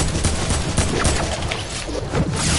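Gunfire in a shooter video game comes as a dense, continuous barrage of close, loud shots with no talking.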